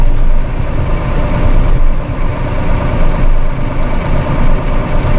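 A Massey Ferguson 4707 tractor engine runs with a loud, close, steady diesel rumble that pulses slightly throughout, and no voices are heard.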